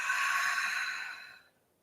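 During a yoga session, one slow, airy out-breath is exhaled close by. It lasts about a second and a half, then fades into silence.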